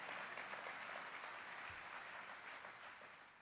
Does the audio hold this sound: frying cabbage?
no